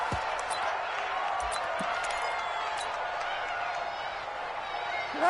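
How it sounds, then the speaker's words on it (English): A stadium crowd roars in a video game American football broadcast during a tense two-point conversion, a steady, broad wash of cheering noise at moderate level that holds almost unchanged throughout. "Listen to this crowd now."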